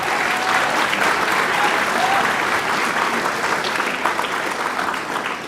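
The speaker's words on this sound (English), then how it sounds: "So we can get a round of applause for Scott first." An audience at a high school orchestra concert claps in steady, dense applause that fills the whole stretch at close range.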